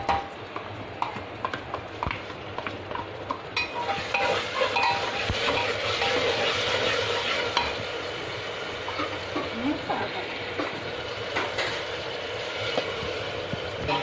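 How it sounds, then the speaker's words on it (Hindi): A steady sizzle of ginger-garlic paste frying in a hot pan, with a spoon stirring and scraping throughout, close and continuous. "थोड़ा अदरक लहसुन का पेस्ट डाल के भून लें।"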